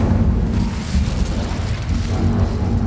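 A Hogwarts Legacy Incendio fire spell unleashes a loud, rumbling whoosh of flame that swells and sustains with a deep booming roar and no voices over it.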